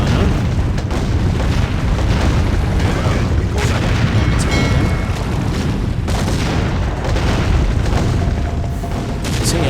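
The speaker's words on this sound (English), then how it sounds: "they're fighting with little catapults" Catapults firing in a battle in Empires: Dawn of the Modern World, heavy booms and impact bursts landing one after another over a dense, loud roar of combat, close and relentless.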